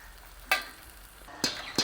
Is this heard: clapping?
no